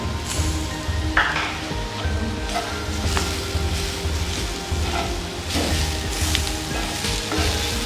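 Celery and fresh tomato sizzle and fry steadily in a hot pan while lamb and vegetables cook, a continuous close crackle with occasional stirring clinks.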